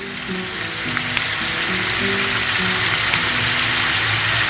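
A whole quail zhal roast with green chillies and shahi garam masala is stirred in the pan, giving a loud continuous frying sizzle with soft stirring movements underneath and no speech.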